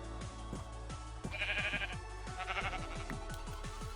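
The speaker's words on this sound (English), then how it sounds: "there's 2 sheep, I only need 1" Sheep in Minecraft bleat repeatedly in short wavering calls, close and clear, several in a row over a faint hum.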